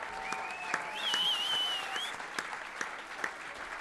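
Audience applause at a live music concert, steady clapping from a crowd with a few sharper individual claps standing out, while a faint whistle-like tone rises and falls over the middle of the burst.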